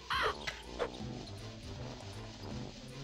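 Birds caw in the video game Banjo-Kazooie: two loud, harsh calls near the start, then a steady game backdrop with fainter ambient animal sounds.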